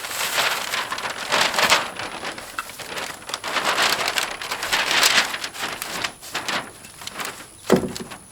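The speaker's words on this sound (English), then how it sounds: "So it looks like we're going to have a rain delay." Steady rain falls outdoors during house siding preparation, a dense broadband hiss with swelling gusts and a sharper knock near the end, with no talking.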